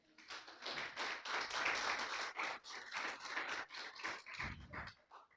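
A church congregation claps in praise during a Spanish-language sermon, a steady, dense patter of many hands that goes on for several seconds at moderate volume in a roomy space.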